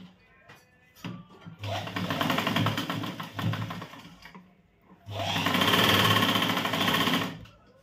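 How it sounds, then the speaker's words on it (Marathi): A sewing machine stitches a 38-size katori blouse in two loud, steady bursts of rapid needle chatter, each running a couple of seconds with a brief quiet pause between them. "डबल टिप मारायची आहे आणि लॉक पण करायचा आहे."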